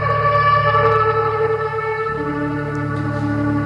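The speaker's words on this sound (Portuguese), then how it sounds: "Isso é o som de um chofar." A shofar, a ram's horn trumpet, is blown in one sustained, wavering tone with a slight shift in pitch midway. It is clear and up close, with no talk.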